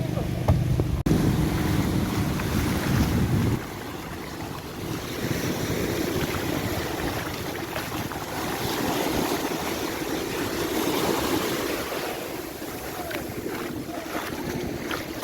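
A bangka racing boat tested on the water, with a continuous engine drone, splashing waves and heavy wind buffeting on the microphone, fairly loud throughout.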